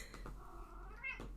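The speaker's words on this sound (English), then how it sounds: "Can you hear my cat meowing in the background?" A cat meows a few times at a distance, soft and drawn out, over a low steady background hum.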